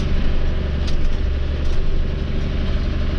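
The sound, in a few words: John Deere 3055 tractor with front end loader running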